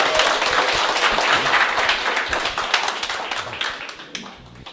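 An audience at a morning assembly claps in dense, sustained applause that slowly thins out over a few seconds, close and loud with no voices on top.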